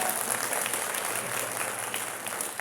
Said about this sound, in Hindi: अगर आपको अमन अच्छे लगे हो तो एक बार जोरदार ताली बजाएं।